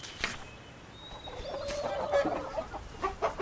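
A rooster gives a drawn-out crow amid scattered clucking from nearby fowl, moderately loud against a faint background.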